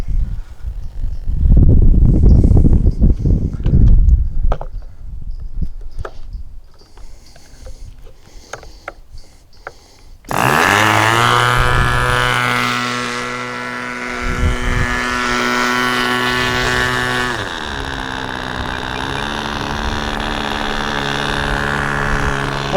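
A new SH46 Sonic Hi Wing model airplane engine during break-in: faint clattering and handling noises, then a loud, steady, high buzzing whine that starts abruptly about halfway through and holds with a slight pitch shift.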